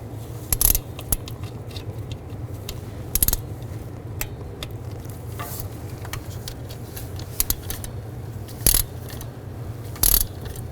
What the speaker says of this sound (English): torque them down to 74 inch-pounds, working your way from the center out